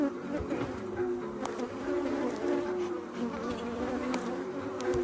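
Honeybees drone steadily around an old hive frame that isn't sealing well at the top, a close, continuous buzz with a few louder wingbeats passing near.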